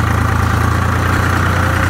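A tractor fitted with an H&S tedder idles on a hill with the clutch pushed in. Its engine gives a loud, steady low rumble with no change throughout.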